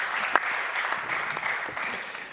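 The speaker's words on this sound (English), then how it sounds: "Big hand of applause, please" A conference audience applauds warmly, a dense, even wash of many hands clapping that carries steadily throughout and tapers slightly at the end.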